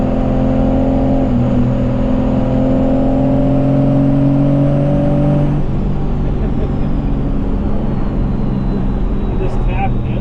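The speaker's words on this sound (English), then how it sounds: "We just drove around, letting the truck warm up, make sure it's up to operating temp." A First Gen Cummins diesel truck drives while warming up to operating temperature, its engine droning steadily and loudly throughout with a shift in pitch partway through.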